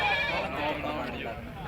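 Goat bleating at a goat market selling sacrificial goats, a short close bleat over a busy background of people talking.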